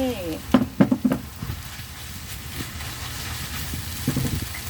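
Small Indonesian noodles sizzle and hiss as they are stir-fried and white soy sauce goes in, with a few sharp stirring clatters early on over a steady frying crackle.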